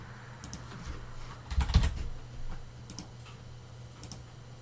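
Typing on a computer keyboard at a Linux terminal, a close, quiet run of irregular key clicks in short bursts with brief pauses, no talking.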